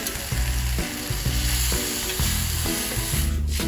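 About 200 ml of shrimp broth, made from boiled shrimp heads and shells, hits a hot pan for a spicy noodle soup, giving a loud, continuous close sizzle with no voices.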